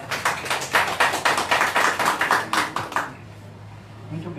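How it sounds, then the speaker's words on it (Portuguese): Applause at a Green Party (PV) political convention in Pentecoste, a dense burst of rhythmic clapping from the crowd that fades after about three seconds into murmur and room noise. "Salve de palmas aí."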